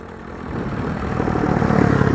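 A tractor hauling a trolley rumbles as concrete is unloaded at a road shoulder construction site, its low engine growl steadily building in loudness over a couple of seconds with no voices.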